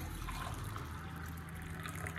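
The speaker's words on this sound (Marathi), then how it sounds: "पाणी ऑलमोस्ट गरम झालं आहे आता, तर आता मी पाणी घेऊ शकतो" Hot water is poured for green tea in a soft, faint, continuous trickle that stays close, with no talking.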